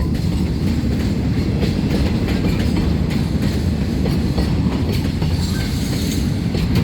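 Thai railway train 725, a freight train, rolling past close by with loud continuous rumble and rhythmic clickety-clack of wheels on rail joints, steady throughout with no voices.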